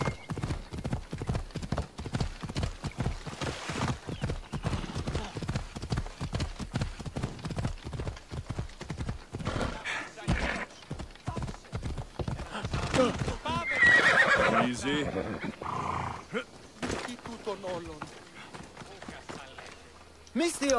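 Rapid hoofbeats of a galloping horse clatter steadily, with a loud whinny partway through, in the video game Assassin's Creed Odyssey.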